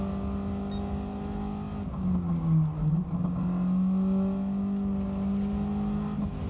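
A race car engine in Gran Turismo 7 holds a steady drone, dips briefly as it shifts or brakes, then climbs back into a sustained rev, fairly quiet, with no voices.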